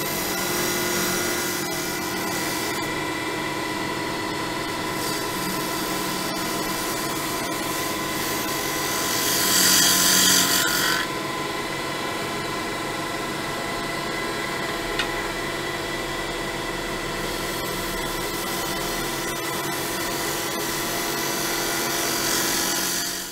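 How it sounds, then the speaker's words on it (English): A scraper tool works a turned wooden box on a running lathe, giving a continuous loud whirring and rasping hiss that holds steady throughout and rises briefly in brightness partway through, with no voices. "I will be scraping as I did on the lid."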